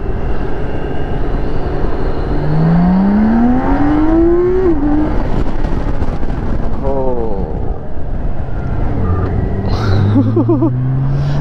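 A BMW K1600B Midnight Edition motorcycle's six-cylinder engine pulls hard under acceleration, its rising whine climbing through a gear, then easing off, all under heavy wind rush with a rider's voice over it.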